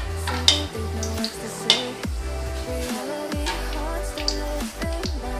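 Puris for pani puri frying in hot oil give a steady, dense sizzle, punctuated by occasional metal clinks and stirring scrapes from a utensil in the pan.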